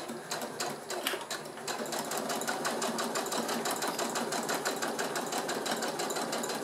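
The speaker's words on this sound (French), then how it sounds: "maintenant je vais doucement, j'oublie pas mon point d'arrêt au début et bien évidemment à la fin de ma couture" Sewing machine stitching a zipper in place with a zipper foot, working slowly around a fabric insulated bottle holder; a steady, close, continuous rapid needle clatter runs throughout with no talking.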